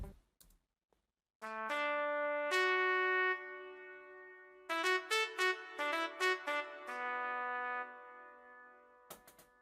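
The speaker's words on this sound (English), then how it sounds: "it was played with a trumpet sound" A solo trumpet brass preset from the Expand plugin plays a melody in an Afrobeats beat remake: sustained held notes, then a run of short tongued notes, then another long tone, clean, upfront and with no voices.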